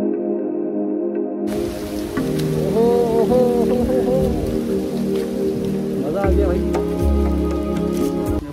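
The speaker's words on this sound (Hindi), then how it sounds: "अभी थोड़ी थोड़ी मतलब बारिश भी होने लगी है" Steady rain patters on leaves and ground in Cubbon Park, Bangalore, throughout, with someone talking over it for much of the time.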